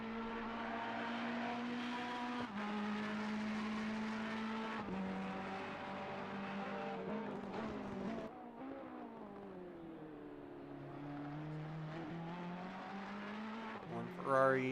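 GT3 and GT4 race cars, including Ferraris, circulate a track in a GT racing game, engines droning steadily with gear changes and shifting pitch as cars pass, ending in a brief louder burst; a commentator talks throughout.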